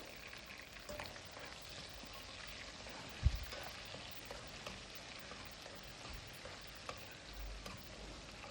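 Onions frying in a pan for a restaurant-style mushroom biryani, giving a steady soft sizzle and crackle that continues throughout, with one brief clunk near the start and no voices.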